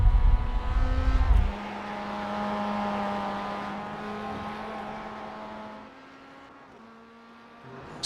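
Race cars in the iRacing sim lap a qualifying session, a steady engine drone with sustained tonal harmonics, loudest at the start, then settling into a continuous mid-level hum as the cars run on.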